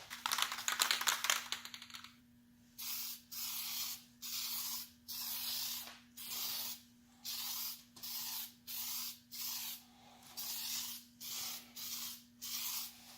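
Paint is sprayed onto a Chrysler 300 in a rapid rattling burst followed by about a dozen evenly spaced hissing sprays, each lasting under a second with short gaps between, close and fairly loud over a faint steady hum.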